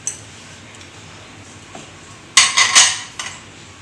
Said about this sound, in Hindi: सारी चीज़ों को डाल के आपने अच्छी तरह से मिक्स कर देना है